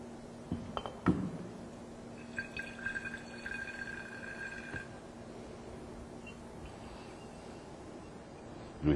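Soluble starch solution poured into a glass conical flask in a lab titration, with a few clinks of glass followed by a faint trickle of liquid against a quiet background.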